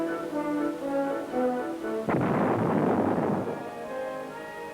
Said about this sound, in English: artillery projectiles are fired directly at the weld on each plate